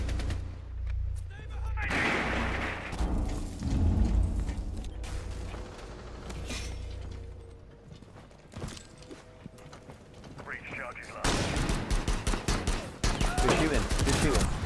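Video game gunfire crackles in scattered shots and rapid bursts, with a dense, loud volley near the end, set over shifting game sounds.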